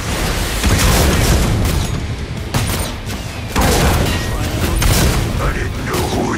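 Rocket launcher explosions in the co-op shooter Killing Floor 2 boom again and again in a dense, loud barrage, with heavy rumbling blasts that overlap almost without pause.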